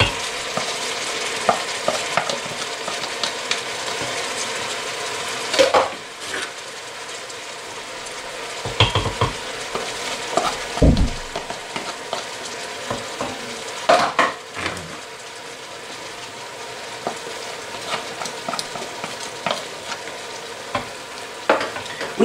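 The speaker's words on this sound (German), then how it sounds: "das brutzelt noch ein bisschen, kurz auch noch mit brutzeln" Vegetables sizzle and fry in an Instant Pot, with a steady hiss of frying under repeated scraping and clinks of a spoon stirring against the pot, and no talking.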